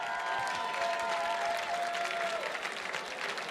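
Applause fills a gala charity auction hall, steady and dense for several seconds, with a faint tonal line riding underneath and no talk over it.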